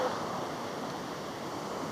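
Big ocean surf breaking, a steady roaring wash of water heard up close and fairly loud throughout, with wind rush over the microphone and no talking.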